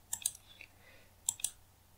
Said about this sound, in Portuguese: você clica aqui até ele ficar verde